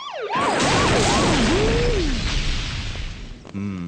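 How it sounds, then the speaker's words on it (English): A wailing ambulance siren sound effect sweeps up and down several times over a loud crash and roaring noise, close and dominant, before fading out into a new tone at the end. "Oh dear, looks like you need an ambulance."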